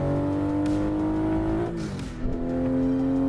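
Truck engine in the driving game American Truck Simulator drones steadily and close, its pitch climbing, dipping around the midpoint, then settling back into a continuous hum with no talk.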